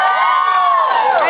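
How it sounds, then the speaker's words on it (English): A crowd of fans at a band's sound check cheers and screams in high-pitched, excited voices, loud and continuous through the whole moment. "Everyone's cheering."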